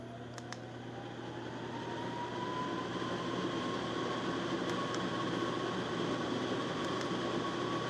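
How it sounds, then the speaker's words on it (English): A steady fireplace blower fan whirs continuously with a broad airy hiss and low hum, a few faint clicks near the start and later. "That's our fan. You can hear it in the background."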